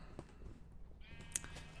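A Minecraft sheep gathered for a sheep farm gives a faint, short bleat against a quiet background with low ambient noise.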